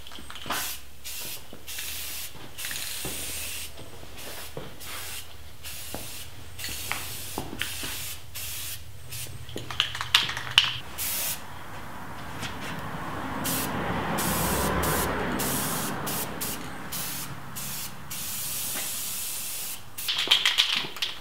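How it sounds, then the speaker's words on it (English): Rust-Oleum gloss black spray paint hisses from an aerosol can in steady sweeping bursts, close and fairly loud, with brief pauses between passes and the rattle of the can. "I'm not an excellent pro spray painter or anything, but the key is to keep this thing moving, keep it at the same distance, usually about 12 inches or so"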